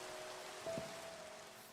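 Steady, faint rain hiss from the blocky sandbox game Minecraft, falling evenly throughout a dark survival world with a thin tonal hum underneath and no voices.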